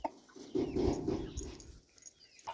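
Young bantam rooster and frizzle hens clucking softly in a short, fairly quiet burst of low murmuring calls, with no talk over them.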